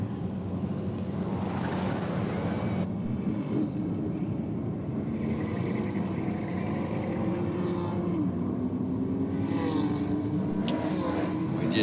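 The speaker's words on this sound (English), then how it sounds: "We just hear that car turning tyres." A drag race car spins its tyres at a racing strip, heard as a continuous loud engine roar and droning tyre noise over windy ambience, with no talk.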